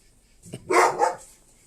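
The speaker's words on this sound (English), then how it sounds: "Even my dogs are getting angry." Dogs barking nearby, a couple of quick, loud barks in close succession followed by a shorter trailing yelp, with quiet around them.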